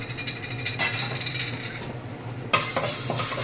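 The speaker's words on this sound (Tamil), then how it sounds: "மிளகு சும்மா லைட்டாக வறுத்தாலே போதும்" Black peppercorns dry-roasting in a pan for homemade idli podi, a close, steady dry rattle and faint crackle with occasional scraping stirs, growing brighter and louder in the last second.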